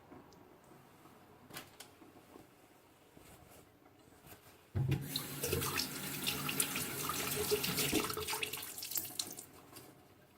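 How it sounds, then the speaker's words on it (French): Warm water gushes from a tap into a sink, starting abruptly after a few quiet seconds of small clicks and handling noises, then running as a steady, close splash. "Alors, vous allez entendre de l'eau."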